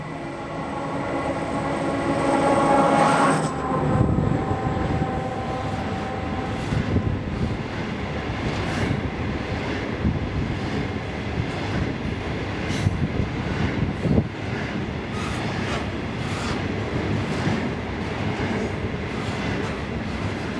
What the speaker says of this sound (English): 8175 from Pacific National can be seen passing us at Matthew Lane Bridge with a cement train.